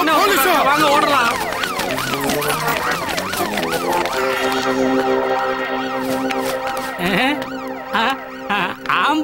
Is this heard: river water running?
no